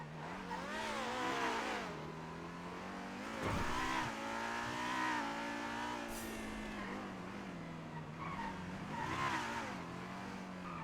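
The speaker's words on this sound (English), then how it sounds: "It's a nice car, it's just fucking loud." A loud car engine in the GTA roleplay game revs and drones continuously, its pitch swelling and dipping through repeated throttle blips, close and prominent with no talk over it.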